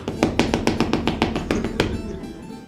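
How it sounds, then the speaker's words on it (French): Knocks on a door in a French improv theatre show, about nine crisp, evenly spaced raps in quick succession, fairly close and loud, ending with a stronger final knock and a short fading tail. "Pan, pan, on toque à la porte."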